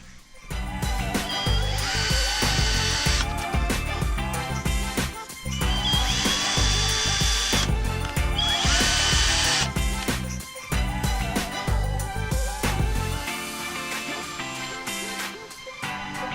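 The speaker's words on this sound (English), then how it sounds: "so our first hole is drilled out" A power drill bores a hole in a 2005 Lotus Elise engine part, whining in several loud bursts that rise and cut out with brief gaps, the bit grinding through metal and rattling between runs.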